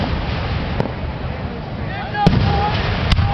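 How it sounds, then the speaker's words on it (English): Ring shell fireworks at a park display go off as a few sharp distant cracks and pops over a steady crowd murmur, with a faint whistle rising midway and voices talking throughout. "Look out for ring shells."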